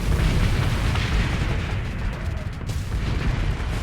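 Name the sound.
explosions of ships in the space video game Starsector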